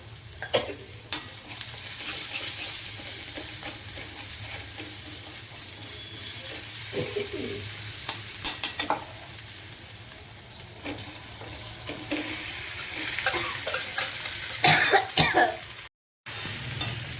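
Potatoes being stirred with a spoon as they fry, a steady sizzle and hiss running throughout with scraping stirs and clinks recurring near the middle and end; no one speaks.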